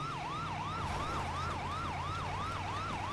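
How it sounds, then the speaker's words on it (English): An ambulance siren in the GTA 5 video game wails in fast, regular up-and-down sweeps, about three per second, loud and continuous over a low engine hum for the whole stretch. "we're gonna go ahead and hit our siren and head there"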